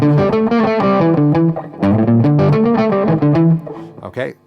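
A distorted electric guitar plays a fast sweep-picked lick in G Dorian, with bright, sustained arpeggiated notes in quick rhythmic runs, loud and close, pausing briefly before a final phrase.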